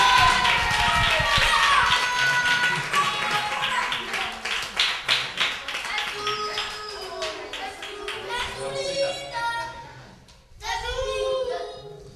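Applause at a youth football team's closing ceremony for UD Roteña's benjamin squad, a crowd clapping steadily then tapering, with an announcer's amplified voice and children's chatter, before a fresh burst of clapping near the end.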